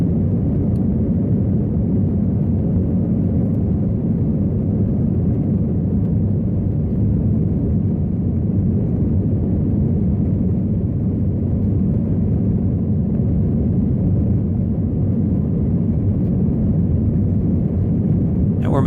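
Steady, loud roar of an Airbus A321 airliner's engines during takeoff from Charlotte Douglas International Airport, heard from a window seat in the cabin as a continuous low rumble with no talking.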